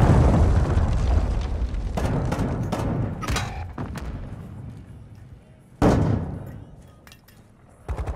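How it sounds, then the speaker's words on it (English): A cruise missile explosion in Call of Duty: Modern Warfare II begins as a loud, rumbling boom that fades, followed by scattered gunshots and a second sharp impact. "Hostiles launched a cruise missile."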